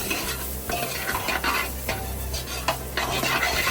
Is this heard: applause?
no